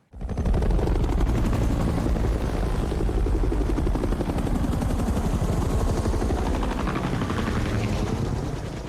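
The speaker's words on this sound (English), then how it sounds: "we're shooting telephoto shots of the helicopters flying and getting different pieces of real helicopters" Helicopter rotors thud in a rapid, steady chop throughout, loud and close, with a constant mechanical roar underneath.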